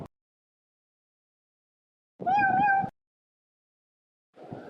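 A single clear meow sounds close by in a quiet room, followed a couple of seconds later by a brief, softer second cry.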